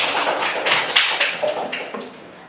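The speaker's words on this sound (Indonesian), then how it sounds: "kita kasih aplaus untuk perwakilan dari desa" Audience applause for a village government representative at a community gathering, a brief burst of scattered clapping, moderately loud and fading over a couple of seconds with no talk.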